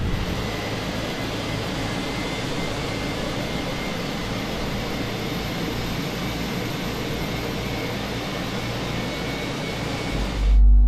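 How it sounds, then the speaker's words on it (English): Steady broadband roar and whine of an Airbus A321 IAE jet engine spooling up during start in Microsoft Flight Simulator, a continuous loud rushing drone that cuts off abruptly at the end. "we go to ignition and start. And we will start the first of those engines"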